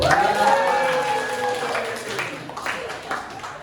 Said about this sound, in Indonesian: Ini spesial, tepuk tangan dulu.